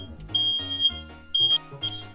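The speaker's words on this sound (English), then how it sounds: "Smoke alarm's going off." A series of short, high electronic beeps from a smoke alarm in the video game Breath of Fire, sounding in an irregular pattern over a low musical backdrop.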